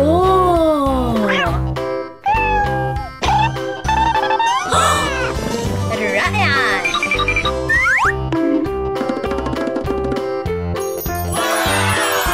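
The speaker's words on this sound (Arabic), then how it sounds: "لا، أنها قطتي" A pet cat meows repeatedly in a pet salon play scene, close and loud over background music with boings and jingles.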